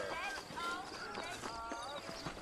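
Horse hooves clip-clop at a walking pace in the Western video game Red Dead Redemption, setting out from a frontier town, with rhythmic thuds close by under a man's speech and some background music.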